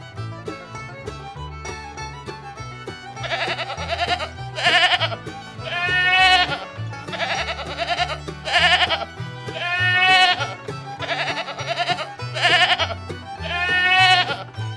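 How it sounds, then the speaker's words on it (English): Sheep bleat repeatedly and loudly, about seven or eight wavering calls in fairly regular succession, close up with a quiet background between cries. "Sheep."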